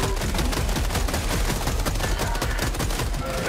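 Rapid gunfire in the video game Helldivers 2 during a bug fight, a dense continuous burst of loud shots filling the whole stretch without pause.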